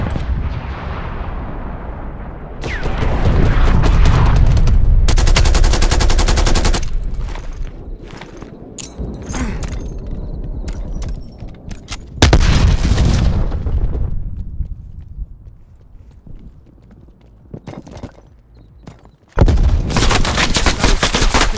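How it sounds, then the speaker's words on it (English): Artillery strike and heavy gunfire in Call of Duty: Black Ops Cold War, loud booming blasts and sustained rapid automatic fire in bursts with dense rumbling low end, intense and close throughout. "Artillery inbound."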